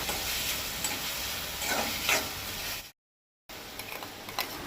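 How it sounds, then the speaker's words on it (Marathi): Finely chopped potato sautés in a pan for Goan rava upit, giving a soft continuous sizzle with occasional stirring scrapes, then a brief gap before the frying resumes. "बटाटूय आतां 1 मिनीट परतून घेवंक जाय"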